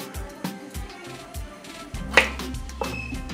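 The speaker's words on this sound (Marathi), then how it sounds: "आता हा कापून घेतला की याला या पद्धतीने कट करायचा" Knife slicing green sponge gourd (gilki) into long pieces for fritters, with soft irregular cuts against a board and one sharper clack near the end, close and fairly quiet.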